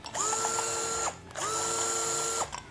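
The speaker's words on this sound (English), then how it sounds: "we are going to take the float bowl off the bottom of this carburetor" A power tool whirs through two steady bursts, each about a second long with a short gap between, while the screws are backed out to drop the float bowl from the carburetor of an '85 Ironhead motorcycle. The sound is close and nobody speaks.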